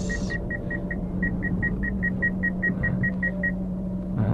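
A manual Suzuki Ignis car engine idles with a low steady rumble while reversing up a steep, narrow slope, with a quick series of rhythmic electronic beeps partway through.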